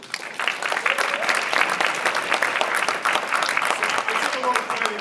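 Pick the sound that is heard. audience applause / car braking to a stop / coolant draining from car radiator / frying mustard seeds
audience applause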